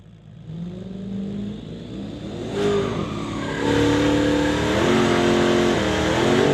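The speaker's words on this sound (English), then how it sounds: "Wow, great burnout." A car at a street legal drag race does a burnout, its engine revving hard in rising, swelling surges with a whirring, tire-spinning roar that grows louder toward the end.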